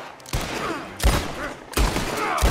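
Gunfire from the Red Dead Online video game: three loud, sharp shots spaced about a second apart, each followed by a short ringing decay, with a busy in-game background between them.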